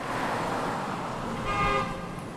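Busy downtown street traffic on Baronne Street in New Orleans' business district, a steady roar of passing cars with a brief car horn toot partway through, moderately loud.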